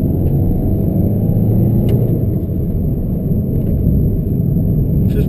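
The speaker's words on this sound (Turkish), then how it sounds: "Şu an ikinci viteste gidiyorum. Motor devre yaklaşık 2000 devir ve hızım 40 km saat. Gaza bastım sonuna kadar." A Peugeot 301 1.6 HDi 92 HP diesel car accelerating at full throttle in second gear from about 40 km/h, heard from inside as a loud, steady low engine rumble and drone throughout.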